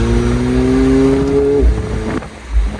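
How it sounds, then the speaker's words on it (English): A McLaren 720S twin-turbo V8 sports car engine revs up with a rising, throaty roar, then drops off sharply, followed by lower rumbling. "It reminds me of my Ferrari a little bit. The way the engine sounds."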